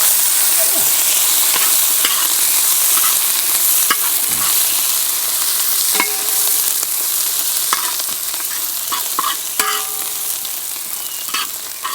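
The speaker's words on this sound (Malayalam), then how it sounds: "സവോള ഇഞ്ചിയും കൂടി നമ്മൾ അതിൻ്റെ അകത്തേക്ക് ഇടുകയാണ് ഇനി ഇത് പയ്യൊന്ന് ഇളക്കി കൊടുക്കാം നമുക്ക്" Sliced onion and ginger fry in a pan for Kerala-style kappa biryani: a loud, continuous sizzle broken by repeated scraping and clinking strokes of a spoon stirring the mix.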